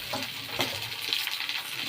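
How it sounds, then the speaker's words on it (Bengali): Winter vegetables frying over low gas in a pan produce a dense, close, continuous sizzle with soft stirring movements and no talking. "সবজিটা হালকা একটু ভাজা ভাজা করবো"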